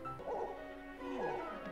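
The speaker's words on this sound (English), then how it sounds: "She's still barking." A pet dog in The Sims 4 makes two drawn-out, whiny yipping barks, moderately loud against a steady game background, with no talking.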